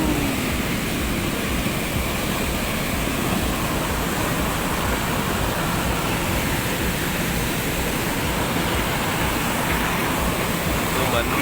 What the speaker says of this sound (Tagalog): Papakita ko sa inyo yung dulo ng tubo. Kumbaga yung exit ng tubig.